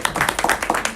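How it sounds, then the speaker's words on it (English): An audience applauding at a weekend devotional gathering, a short burst of close, irregular handclaps. "I think he deserves another round of applause."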